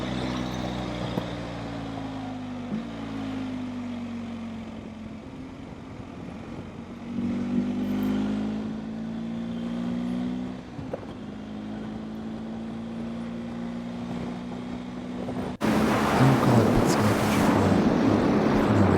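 A BMW R motorcycle cruising on a road toward Helena, Montana, its steady engine drone rising and falling with gear changes, under heavy rushing wind noise that surges louder near the end.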